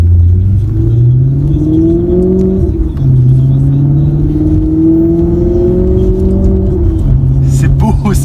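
A Maserati GranTurismo S engine, heard from inside the car, rumbles loud and close while it revs and accelerates, its pitch sweeping up and down through the gears, with occasional voices on top.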